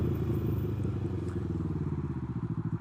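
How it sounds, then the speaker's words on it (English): A Can-Am Ryker three-wheeled motorcycle is being ridden, its engine a steady, close, throbbing rumble that turns into a quicker, pulsing putter toward the end. "It feels good to be riding my Ryker again."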